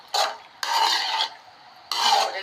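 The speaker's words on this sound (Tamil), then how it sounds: "பாஸ்தா உடையாத அளவுக்கு மேக்ரோனி நன்றாக கிளறினா மசாலா எல்லா பக்கமும் போட்டாகும்" Macaroni pasta being stirred with masala in a pan, giving three separate bursts of scraping and rasping, close and moderately loud, with brief quiet gaps between strokes.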